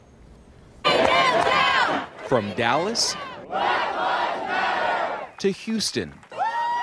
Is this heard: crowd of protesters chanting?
yes